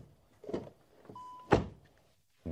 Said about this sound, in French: Bruit agréable, fermeture porte arrière.